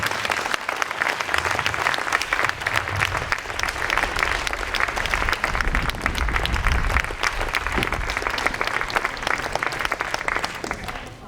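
Audience applause at a poetry festival in Sardinia, a dense, steady wash of many hands clapping that carries loudly and evenly throughout, with faint background voices underneath.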